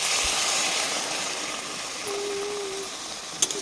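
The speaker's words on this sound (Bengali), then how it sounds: "এই মশলার পাত্র ধোয়া জলটা এবার এখানে দিয়ে দেবো।" Water poured into a hot pan of bean and fish-egg curry sets off a loud, steady hiss of steam close by that slowly fades, with a brief clink near the end.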